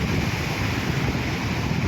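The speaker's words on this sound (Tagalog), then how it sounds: "lakas ng alon" Heavy sea surf churns and crashes nearby while a fishing net is hauled, with strong wind buffeting the microphone, a loud, continuous rush of water.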